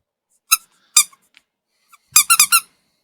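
A squeaky Pikachu toy gives sharp, bright squeaks, two single ones and then a quick run of four, close and loud against silence.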